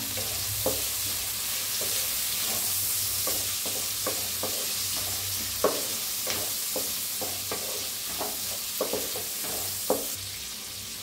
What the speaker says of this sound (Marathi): त्याच्यात टाकूया कढीपत्ता आणि छान असं हलवून भाजून घेऊया कांद्याला।